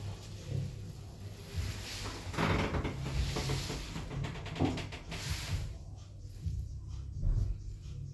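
Slow Doppler elevator at a store in Belfast with its doors sliding shut, a low mechanical rumble and rattle building and fading over several seconds.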